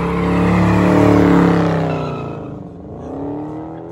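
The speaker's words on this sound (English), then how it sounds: "There's a Charger doing a burnout." A Dodge Charger does a burnout at a car meet, a loud sustained engine roar with tire noise that holds steady and then dips and rises again, up close and without talk.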